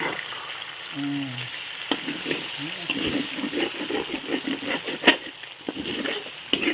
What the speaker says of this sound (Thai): วันนี้ยายมาผัดข้าวนะคะ